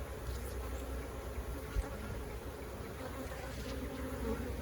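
Honeybees buzz at an opened hive of an aggressive colony with a new queen, a dense, continuous drone that stays close and steady throughout with no voices.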